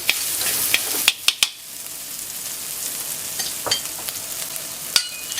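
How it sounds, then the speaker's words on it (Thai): Spice paste stir-fried in sunflower oil for a turmeric squid dish, a steady broad sizzle with a few sharp spatula scrapes and clicks near the start and end, close and fairly loud with no talking. "ผัดเครื่องลงไปเลยค่ะ"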